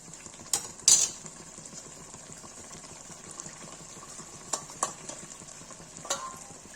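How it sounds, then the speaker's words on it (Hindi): Cream and malai stirred into a creamy chicken gravy, a soft steady sizzle with a few sharp spoon clacks against the pan, heard close up without talk. "ये मलाई डाल देंगे और क्रीम डाल देंगे"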